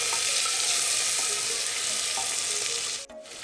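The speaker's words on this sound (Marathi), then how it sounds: "आता याच्यामध्ये टोमॅटो आणि थोडेसे मटार घेतलेले आहेत, ते टाकूया. तेलातच आपल्याला फ्राय करायचे ते थोडेसे, जास्त नाही," Tomatoes and peas fry in hot oil for masale bhat, a loud continuous hiss filling the whole stretch before it cuts out briefly near the end.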